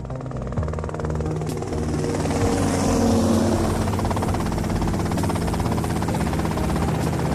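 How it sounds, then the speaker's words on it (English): Helicopter flying in GTA Vice City, a loud continuous rotor thrum and engine drone building slightly and holding steady, with a brief whoosh early on and no speech. "Okay, that's them in the chopper."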